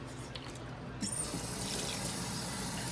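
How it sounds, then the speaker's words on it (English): Tap water running into a sink to rinse salted eggplant, a steady rushing stream that grows louder after a brief splash, continuing close by. "so now we're gonna wash it out and you're gonna see"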